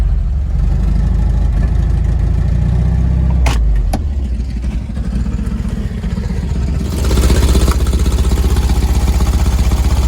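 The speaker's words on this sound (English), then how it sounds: "So listen to it, idling pretty good." A VW Bus engine idles with a low, even rumble, close by and steady, with a couple of brief clicks and a slight rise in noise toward the end.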